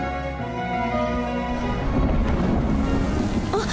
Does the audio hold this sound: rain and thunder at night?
yes